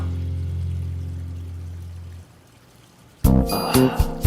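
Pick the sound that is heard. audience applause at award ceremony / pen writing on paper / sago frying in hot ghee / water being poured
water being poured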